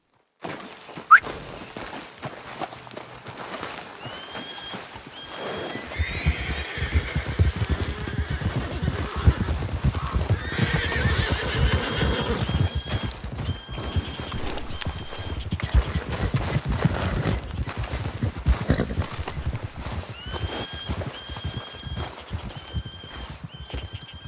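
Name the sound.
horse neighing and hooves clip-clopping, from a video game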